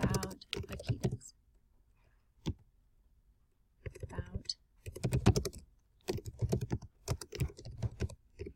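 Typing on a computer keyboard while editing slide text in PowerPoint, heard as bursts of close, crisp key clicks separated by short pauses.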